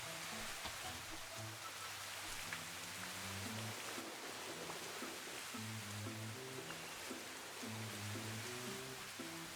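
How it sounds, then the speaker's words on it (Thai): Steady rain hisses evenly throughout in the game Mini World, with a soft, low melodic tune playing underneath. "แต่ว่าต้องอยู่จนฝนจะหยุดตก"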